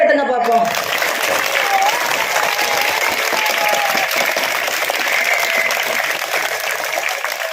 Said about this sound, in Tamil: இந்த பின்னால உட்கார்ந்துருக்கவங்க பெற்றோருக்கு நன்றி சொல்லி ஒரு கை தட்டுங்க பார்ப்போம்.